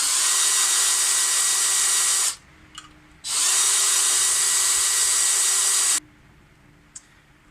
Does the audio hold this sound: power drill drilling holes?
yes